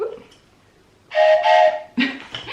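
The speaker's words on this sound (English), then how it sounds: "We have our train whistle." A bright, steady whistle toots twice, the first blast long and the second shorter, loud and close.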